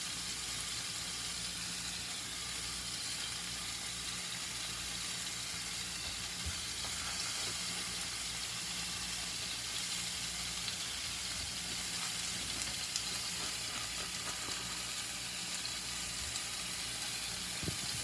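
Floured cube steaks fry in a pan with a steady, broad sizzle and hiss that runs unbroken and fairly soft, with a low hum underneath and no talking.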